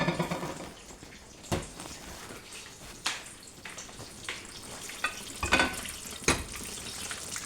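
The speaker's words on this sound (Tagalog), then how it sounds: "Habang nagsiprito tayo, pahinain natin yung apoy ng kanin para hindi masunog" Eggplant frying in a pan on a home stove gives a steady, moderate sizzle, with several sharp clatters of a utensil stirring or turning the pieces.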